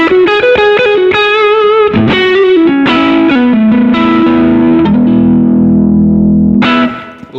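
Electric guitar through a Chase Bliss Brothers AM pedal set to distortion, playing loud, thick, compressed notes and a sustained chord that rings out before a final short strum.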